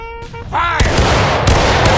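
A musket volley from a line of Civil War-era infantry in the game War of Rights, a sharp crackling blast after a shouted order, with ragged smoky reports and rolling echo continuing for over a second.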